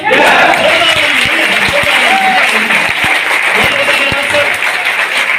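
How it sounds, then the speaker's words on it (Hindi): Sustained applause from the audience at a packed program fills the whole stretch, dense and steady, with voices talking underneath. "जिन लोगों ने तैयारी की है क्या उनके लिए ताली बनती है सर?"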